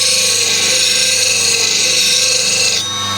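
A Hope Threepoint turning tool is rubbed against a sharpening block, making a close, steady, high rasping scrape that runs continuously and then cuts off just before the end.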